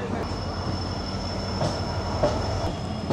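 A train stands at the long Kharagpur station platform, a steady rumbling hum with a thin high whine and occasional faint clanks, nearby and continuous.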